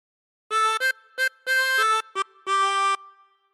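A short harmonica phrase of several clear reedy notes, some quick and choppy, others held longer, played alone with no voices.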